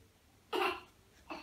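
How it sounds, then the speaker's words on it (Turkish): A child gives a short, sharp cough on request, followed moments later by a second, softer cough, close and clear against a quiet background. "Öksür bakayım bir."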